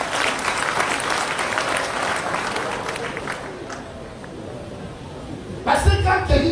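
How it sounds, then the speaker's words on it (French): A church congregation claps and cheers for the Lord, a sustained wave of applause that fades before a brief louder swell near the end. "Est-ce qu'on peut acclamer pour le Seigneur?"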